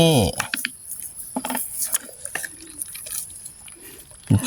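Water poured out of a fish and shrimp trap in a Thai rice-field ditch, trickling and splashing in uneven bursts, with someone talking over it and a louder splash at the end.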